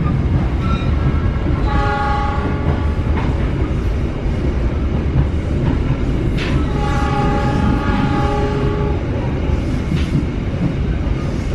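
The KA Pangrango passenger train (Bogor–Sukabumi line) rumbles steadily along at close range near Karang Tengah station, and two long horn blasts sound over the continuous rolling noise.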